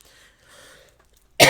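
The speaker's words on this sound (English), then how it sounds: "I wasn't coughing this bad before I turned on the camera" A single sharp, loud cough bursts out close to the microphone right at the end, after a second of near-silence broken only by faint murmuring.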